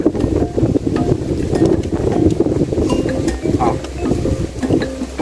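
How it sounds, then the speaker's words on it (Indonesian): Strong, gusty wind buffets an outdoor cooking spot where rice liwet is being made, a constant rumbling roar against the microphone with faint clinks and knocks in the background. "Oh, angin ribut deh mah."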